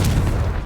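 A Confringo fire spell blasting in Hogwarts Legacy: a single short, loud, booming burst that fills the whole moment with a dense rumbling roar.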